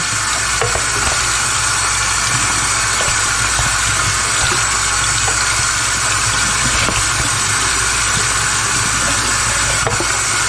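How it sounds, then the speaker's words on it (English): Cooked pasta rinsed in a colander under a running kitchen tap, a loud, steady, close rush of splashing water that continues unbroken throughout. "let's go ahead and rinse off the pasta"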